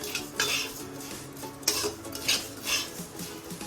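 A spoon scrapes and clinks against a pan as semolina is stirred and dry-roasted for upma, repeated rhythmic scraping strokes at close range with a faint sizzle underneath, no voices.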